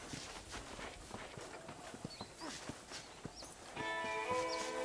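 Steady hoof clip-clop of a horse at a walking pace in Red Dead Redemption, regular and fairly close, with ambient game sounds and a brief musical tone near the end.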